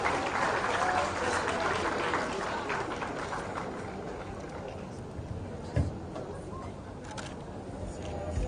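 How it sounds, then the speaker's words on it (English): Audience applause for the First Lady of Osun State at the closing ceremony of the Betsy Obaseki women's football tour in Edo: a steady, dense clapping wash from a crowd that fades slightly toward the end. "Please another round of applause again for her."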